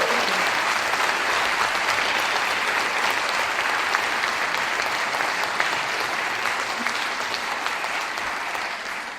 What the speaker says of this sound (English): whoop and clap and cheer and give people thunderous applause